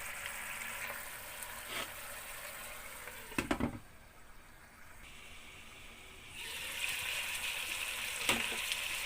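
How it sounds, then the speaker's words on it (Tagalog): Vinegar cooks in a pan for chicken adobo, a soft, steady sizzle that drops away briefly after a clatter, then swells back louder. "lutuin muna natin yung suka ng mga 2 minutes"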